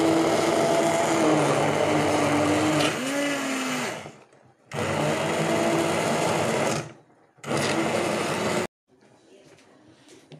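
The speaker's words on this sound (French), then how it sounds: "maintenant je vais les mixer" Kitchen blender pureeing boiled oranges into a juice concentrate, a loud steady whirring motor in several bursts separated by short pauses, with a brief quieter stretch at the end.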